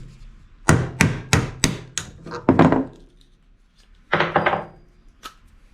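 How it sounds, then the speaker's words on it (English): Sharp metallic taps strike a hinge to drive its pin out, a quick run of about seven close knocks, a pause, then a few more hits. "we're going to take this hinge and we're going to pop the pin out"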